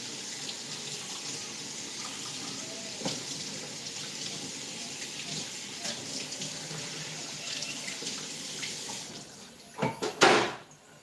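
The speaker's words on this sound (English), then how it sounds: "I'm going to run up cold water on top of my pressure pot to depressure it." Cold tap water runs steadily over a pressure cooker to depressurize it, a continuous splashing hiss with a few knocks, then a louder clatter at the end.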